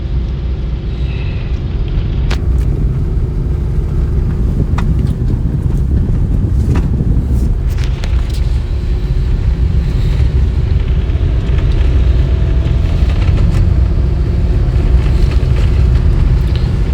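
A 2016 Cummins diesel pickup with a manual transmission drives steadily, its low engine rumble and road noise continuous and loud throughout, mixed with wind buffeting against the microphone.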